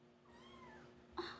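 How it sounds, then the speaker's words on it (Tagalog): A house cat meows once, a short faint call near the end of a quiet indoor moment, standing out briefly against low background hiss. "Meow. Sumasagot siya."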